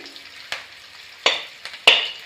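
Onion fries in a pan during chicken biryani cooking, giving a soft steady sizzle broken by a few sharp crackling bursts, close and moderately loud, with no talk.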